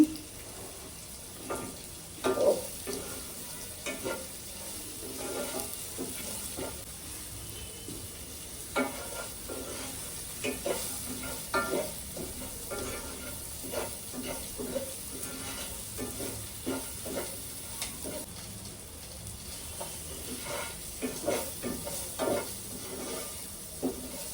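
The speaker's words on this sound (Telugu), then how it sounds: "దీంట్లో ఒక పావు స్పూన్ సాల్ట్ వేస్తున్నానండి. ఉల్లిపాయ వేగడానికి బాగుంటుంది." Onions frying in a pan with a little salt, a steady sizzle broken by frequent stirring scrapes and clicks throughout, fairly close and moderately loud, with no talking.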